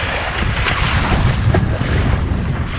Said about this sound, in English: Okay, we've got some wind coming.